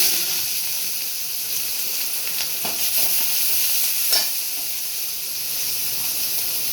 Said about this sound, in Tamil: கடுகு சீரகம் பொரிஞ்சோம்.